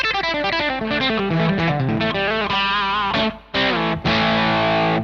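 An electric guitar through a DOD Overdrive Preamp 250-X pedal in silicon mode plays a fluid lead line with bent and sustained notes, crunchy and loud, with a short gap before a final chord rings.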